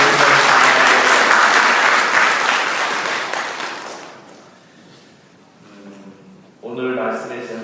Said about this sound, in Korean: 우리 박수로 특별히